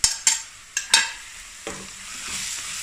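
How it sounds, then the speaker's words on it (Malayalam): Onions with ginger garlic paste sautéing in a pan: a few sharp spoon scrapes and knocks against the pan up front, then a soft, steady sizzle settling underneath. "ബ്രൗൺ കളർ ആവുന്നത് വരെ വഴറ്റിയെടുക്കാം"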